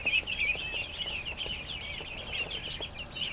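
Young ducks in a yard calling with a steady stream of high, thin peeping chirps, dense and continuous over a low ambient hum, close by and without talk.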